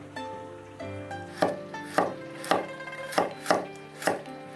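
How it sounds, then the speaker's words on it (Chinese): A knife chops half a carrot into thin strips on a cutting board: about six or seven crisp, evenly spaced knocks, close and fairly quiet, with no talking. "再准备半根胡萝卜，先切薄片儿，也切成细丝"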